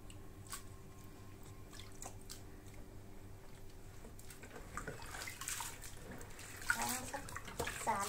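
Bean sprouts are rinsed by hand in a basin of water, with quiet drips and soft sloshing that grow into louder splashes and squishy handling near the end.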